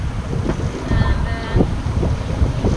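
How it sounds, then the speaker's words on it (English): Big waves and rising wind surround a sailboat at sea, heard as a constant loud rush of water and wind buffeting the microphone, with splashing surges and faint creaks. "pretty big waves. Yeah, and the winds has been picking up a little bit"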